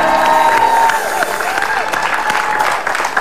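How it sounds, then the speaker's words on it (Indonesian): Studio audience applause on an Indonesian television game show, a loud sustained wash of clapping with faint cheering, steady for the whole stretch, while a tone and some background voices sit underneath. "Tepuk tangan dulu dong."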